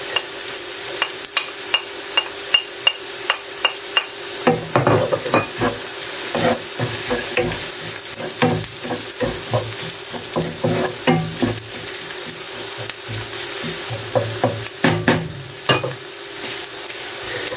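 Garlic fries in a hot pan for bopis made with ox liver, a steady sizzle broken by repeated scraping stir strokes that come faster and louder toward the middle and end, with no talking.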